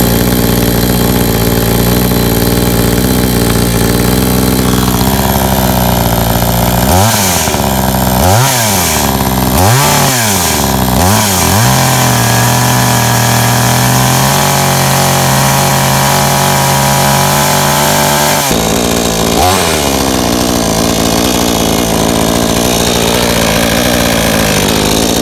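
A Blue Max chainsaw engine, used for bucking a large pine tree, idles steadily and loudly throughout, with a few brief rising-and-falling throttle blips in the middle before it settles back to a rough, continuous idle.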